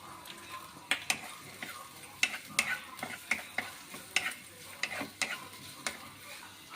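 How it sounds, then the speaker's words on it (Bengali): Chopped onion frying in two spoonfuls of oil, a quiet sizzle under a string of sharp rhythmic clicks and taps as a spatula stirs and scrapes the pan, about two a second, close and without speech. "আমি দু চামচ তেল দিয়ে দিলাম পেঁয়াজ কুচিটা দিয়ে দিলাম"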